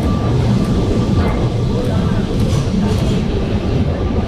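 A tram rolls past on street rails, a dense low rumble with a few faint clicks from the wheels, steady and fairly close throughout.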